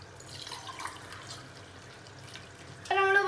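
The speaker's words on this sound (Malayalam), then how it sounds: "3 കപ്പ് വെള്ളം ആഡ് ചെയ്യാം." Water pours steadily into a cooking pot for Dindigul Thalappakatti-style biryani rice, a close, soft running splash that grows louder and brighter in the final moment.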